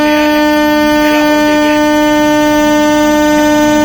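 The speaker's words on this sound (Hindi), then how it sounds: "पहला हॉर्न दे दिया।" A loud, sustained locomotive horn blares continuously at close range, a steady multi-tone blast, from a passenger train about to depart.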